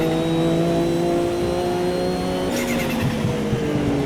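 A race car engine in the Automobilista 2 racing game revs loudly and steadily up close, then shifts up early at about the midpoint with a brief break in tone, alongside faint tire noise.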